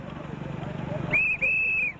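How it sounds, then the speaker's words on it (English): Indistinct voices and low rumbling give way to a high, steady train whistle blown in two blasts, a short one and then a longer one. "Do that whistle one more time for us."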